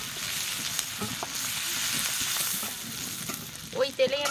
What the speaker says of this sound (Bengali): মাছগুলি আমার লাল লাল করে ভাজা হয়ে গেছে, আমি এবার মাছগুলো তুলে নেব।